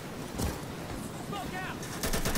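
Gunfire in the tactical shooter Insurgency: several loud sharp shots, the last ones in a rapid burst, over continuous combat noise with voices faintly mixed in.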